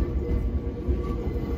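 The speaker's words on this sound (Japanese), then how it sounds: "あ、電車走ってきました。" A Nagano Electric Railway train pulling into a station, heard from behind glass as a steady, close rumble of rolling wheels and carriages with faint rail clatter and no talking.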